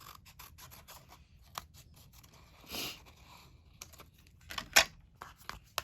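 Scissors trim paper in a junk journal craft session, a series of close, crisp snips and slicing strokes with soft paper rustles between cuts.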